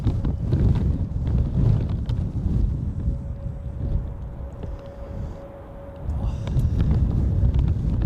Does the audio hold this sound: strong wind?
yes